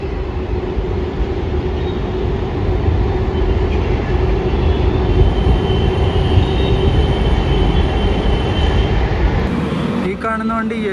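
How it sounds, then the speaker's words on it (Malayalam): A metro train rumbles past nearby, a loud, steady roar of wheels on rails lasting throughout. "ഇത് മെട്രോ പോകുന്നു"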